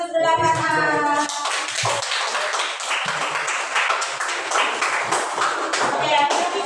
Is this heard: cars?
no